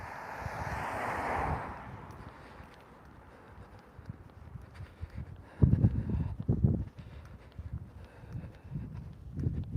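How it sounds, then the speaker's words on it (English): Outdoor wind gusting across the microphone in steady low rumbling buffets, loudest near the start and again in bursts toward the end, with no talking. "the wind blowing in our face right now too"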